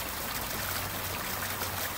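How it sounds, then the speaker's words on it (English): Water splashes steadily onto a newly installed pond liner basin with a bermed edge about eight feet square, a continuous close hissing trickle and patter without any voices. "You can see the way the water's splashing."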